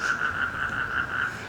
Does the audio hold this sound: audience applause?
no